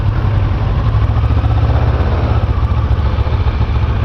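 A 650R sport touring motorcycle riding on the road, its engine giving a loud, steady, low rumbling drone with continuous wind noise, close and unbroken throughout with no talking.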